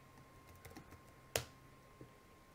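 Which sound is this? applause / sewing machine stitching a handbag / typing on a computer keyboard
typing on a computer keyboard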